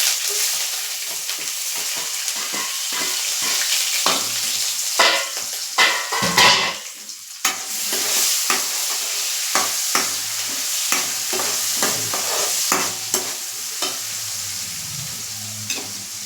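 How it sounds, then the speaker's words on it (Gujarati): Finely chopped onions fry in hot oil for kanda poha, sizzling steadily while a spoon stirs them in the pan with repeated scraping and clattering strokes, close and loud, with no voices. "અને હવે આપણે આમાં ઝીણી સમારેલી 2 નંગ ડુંગળી છે તે એડ કરી લેશું."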